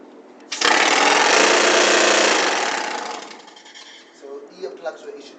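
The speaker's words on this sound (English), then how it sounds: "now I'm going to demonstrate the machine, and it gets very loud" A loud gold mine machine starts up with a sudden roar deep underground on Level 5, holding a dense, steady din for about two seconds before winding down, followed by scattered clanks and rattles.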